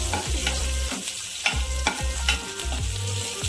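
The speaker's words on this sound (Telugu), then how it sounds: "అల్లం వెల్లుల్లి చాప్ చేసుకునే వేసేయాలి. నూనెలో వేగాలి." Chopped ginger and garlic fry in hot oil with shahi jeera, a loud, steady sizzle broken by rhythmic scraping strokes of a spatula stirring the pan, about every half second.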